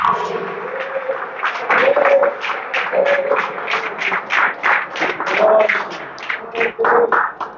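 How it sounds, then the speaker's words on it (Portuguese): A church congregation claps in worship, a rhythmic run of distinct claps that swells into steady, fairly loud applause, with a voice speaking over the start. "Vamos aplaudir o Senhor."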